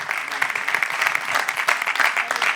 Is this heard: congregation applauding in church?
yes